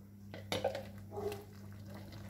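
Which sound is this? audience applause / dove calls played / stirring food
stirring food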